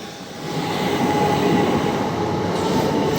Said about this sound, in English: See you later, train.